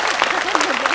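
An audience at a tribute concert in Plovdiv, honoring a children's choir, claps in a dense burst while someone speaks loudly over it.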